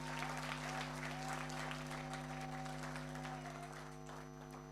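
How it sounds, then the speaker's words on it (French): An audience applauds the young staff of Global Investment Trading at a corporate presentation, with even clapping over a steady electrical hum that fades slightly toward the end. "Applaudissez pour ces jeunes, s'il vous plaît."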